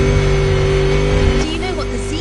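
A BMW Z sports car in The Crew Motorfest racing game idles with a steady, loud engine hum, then its revs rise and fall in a couple of quick pulls near the end.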